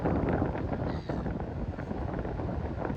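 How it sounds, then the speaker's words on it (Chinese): Strong wind at Bondi Beach, Sydney buffets the microphone in a continuous low roar, gusting and rumbling throughout with no other clear sounds. "我们到的时候，在这里听到呼啸的风声"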